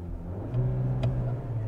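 Stationary 2020 Seat Leon FR with a 150 PS 1.5 eTSI engine, idling in neutral and revving briefly, a steady low engine hum that swells slightly in pitch, heard close.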